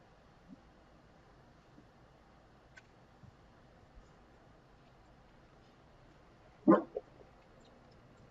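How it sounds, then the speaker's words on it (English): A puppy gives a single short bark in the background of an otherwise quiet room, followed by a faint yip, with only soft scattered noises around it. "Sorry about the puppy in the background."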